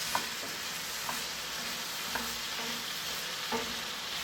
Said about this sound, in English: and then add my cubed potatoes. Give this a good mix.